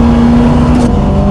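A Lancia Delta race car's engine drones loud and steady from inside the cabin on the Donington track, a sustained close roar with a constant tone and no talk.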